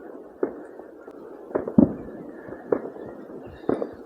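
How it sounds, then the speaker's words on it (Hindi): Firecrackers bursting outdoors during New Year celebrations in Norway, a scattered series of sharp bangs and crackles at middle distance, irregular and close together, with a low background rumble between them. "किधर गया पटाखा?"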